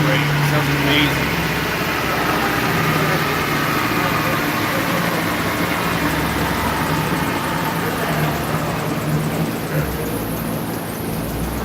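A high-performance car at a dyno day event idles with a continuous, loud, steady engine drone, with faint voices mixed into the background.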